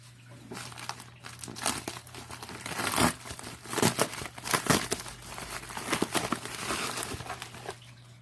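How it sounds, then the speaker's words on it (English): Someone unwraps a package holding an old electromechanical fire alarm horn, with close crinkling and crumpling of wrapping and short bursts of tearing, uneven and fairly quiet. "let's unbox this package."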